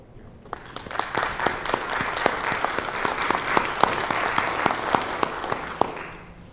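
Applause in a county government meeting room for the county's employees, starting abruptly and holding as a steady patter of many hands with crisp individual claps, then tapering off near the end.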